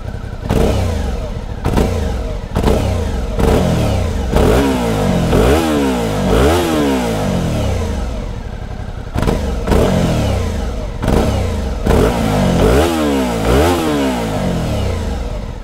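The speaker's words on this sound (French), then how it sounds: "La sonorité de l'échappement est d'ailleurs dans le même esprit puisqu'elle est très douce et discrète" A Suzuki V-Strom 650 XT motorcycle engine idles and revs in repeated rising bursts, a soft, muffled exhaust note through a large silencer, fairly close, with short pauses between throttle blips.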